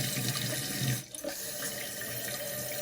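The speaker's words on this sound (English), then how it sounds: "as water starts pushing up, the float's going to become buoyant, and it's going to raise up" Water runs steadily into a tank as a float valve fills it, a close, continuous hissing rush with a brief dip and gurgle partway through, and no voices.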